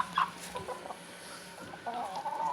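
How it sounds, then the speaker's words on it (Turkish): Laying hens cluck in short, close bursts, a few sharp calls rising over quieter muttering and rustle in a poultry yard. "bunlar yumurta koyan tavuklar"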